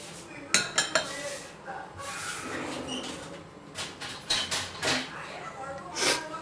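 Oil being swirled around a heated pan, about a teaspoon, with metallic scraping and clinks of the pan shifting on the stove and a few sharper knocks, close and moderately loud.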